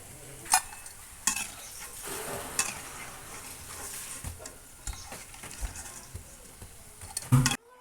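Onion pakoda sizzling steadily in hot oil, a constant close crackle broken by scrapes and clinks of a stirring spoon against the pan, with no talking.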